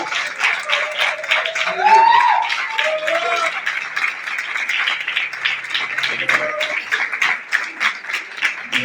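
Church congregation applauding at an evening service, steady sustained clapping from a full room that fills the whole stretch, with a voice speaking over it.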